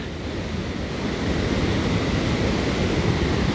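Fast, powerful river water rushes near Niagara Falls at Goat Island, a dense, steady roar of churning water close by with some wind buffeting, constant and loud with no talk.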